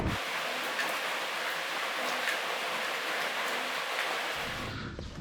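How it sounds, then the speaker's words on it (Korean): Rain beginning to fall on a beach in Bali, a loud, steady broadband hiss like surf and rainfall blended together, continuous and close, with a brief low rumble and a change near the end. "빗방울이 떨어지기 시작해서 피해야 되겠네요"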